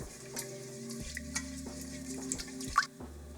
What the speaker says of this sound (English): Add the sugar, and again mix until dissolved.